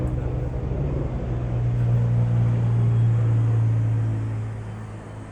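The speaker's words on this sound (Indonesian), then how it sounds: "Helikopter." Helicopter flying overhead, a steady low droning rotor hum that swells slightly and then fades toward the end, heard alone without talk.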